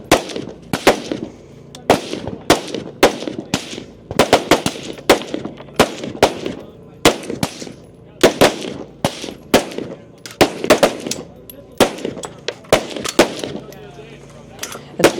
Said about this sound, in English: Shooting sequence here with the rifle.